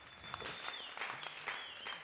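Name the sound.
audience applause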